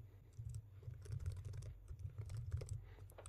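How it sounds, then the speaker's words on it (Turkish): Someone types an email address on a computer keyboard, a quick faint run of soft key clicks close by, steady over a few seconds. "E-postamı yazıyorum."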